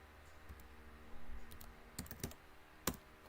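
Computer keyboard typing during an Among Us game, a few scattered key clicks and a couple of sharper taps over a steady low background hum, close and fairly quiet.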